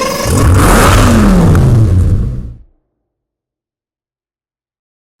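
Aston Martin V12 Vantage in Need for Speed Hot Pursuit, its V12 exhaust revving hard and loud for about two and a half seconds, pitch sweeping as it accelerates, then cutting off abruptly into silence.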